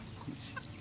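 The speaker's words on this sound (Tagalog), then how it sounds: "Dito na yung mga manok." A few soft, brief clucks from chickens on a farm, distant and faint over a quiet outdoor background.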